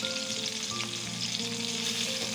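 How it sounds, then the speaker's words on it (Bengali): Tomato and chili paste frying in a pan, a steady close sizzle that holds evenly throughout with no voices. "এগুলো দিয়ে ভালো করে একটু ভেজে নেব"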